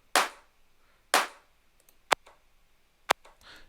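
Two loud, broad hand-clap hits in a tech house beat land about a second apart, followed by two sharp, shorter snaps and a faint swish at the end, with no voices.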